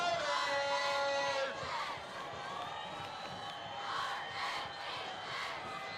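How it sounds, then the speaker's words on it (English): Home crowd at a Highland high school varsity football game cheering and whooping before a big third down, loud at first and then settling into a steady, more distant roar. "The Highland crowd on their feet"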